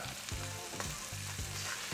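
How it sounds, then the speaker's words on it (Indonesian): Seasoned shrimp, salted and peppered with a little light soy sauce, stir-frying in a hot pan for Hong Kong-style fried rice, a close steady sizzle with a few scraping stirs and no talk. "Kita tumis dulu, nggak perlu terlalu banyak digoyang-goyang, biarin matang dulu aja."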